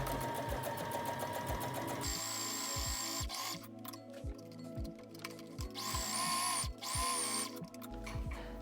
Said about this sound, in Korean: 접어놓은 단짝을 너비에 맞춰 스티치 봉제해주세요.